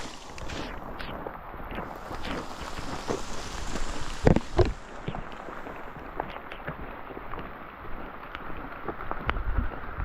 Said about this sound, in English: And it is raining again.